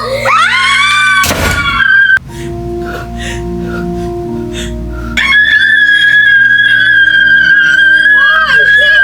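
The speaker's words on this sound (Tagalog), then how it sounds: "Say, bakit kayo sumisigaw?" Several people scream in panic, loud shrill overlapping cries opening the scene, then a quieter murmur of commotion before the high screams rise again and continue to the end.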